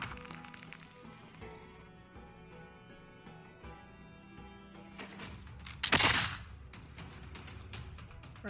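Field cannon combat in Civilization VI, with a steady game music bed giving way to a loud, sharp cannon blast and crackling burst near the middle that decays over about a second.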